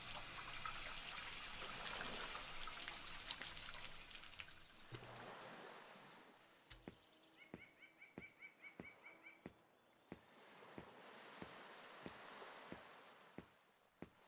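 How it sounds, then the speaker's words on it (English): Water pours steadily from a shower in the Beach Club Simulator game, then drops to a thin trickle with regular light ticks and drips. "Right, we'll take the shower."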